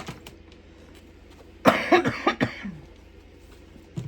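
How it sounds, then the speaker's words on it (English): A short burst of hacking coughs, several rough, close-up spasms in quick succession, rises out of a quiet room and fades after about a second. "Sorry for the hacking cough"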